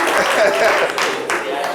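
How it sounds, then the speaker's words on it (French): Audience applause in a radio studio during a live call-in show, a broad crackling wash of clapping with a voice speaking over it, steady and fairly loud throughout. "On va l'applaudir encore une fois."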